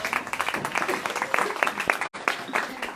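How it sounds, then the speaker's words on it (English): An audience applauds at an evening talk, with sharp individual claps standing out from a smaller, uneven crowd, briefly interrupted partway through. "round of applause"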